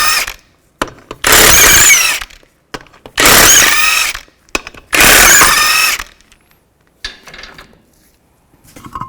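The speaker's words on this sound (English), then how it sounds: "use a 19mm socket, take the lug nuts off" A power impact tool with a 19mm socket zips wheel lug nuts off a 2005-2010 Chevy Cobalt in three loud, close bursts of about a second each, separated by short silences and followed by fainter clicks.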